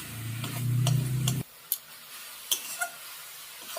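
Mixture stirred in a pan over a medium gas flame, a soft scraping and light sizzle for about a second and a half, followed by a few faint clicks and taps in a quiet room.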